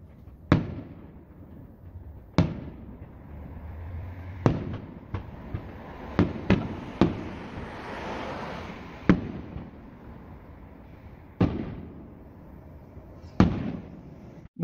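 Fireworks burst at a distance, a dozen sharp cracking bangs spaced irregularly over a faint crackling, rumbling background, with no talking.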